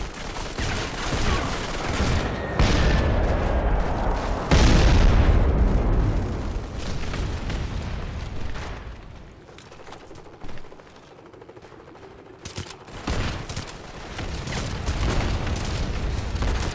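A bombing run in the iOS shooter Modern Combat 5 sets off explosions: heavy booms and bursts of rapid gunfire arrive in clusters, with quieter rumbling gaps between the loud impacts.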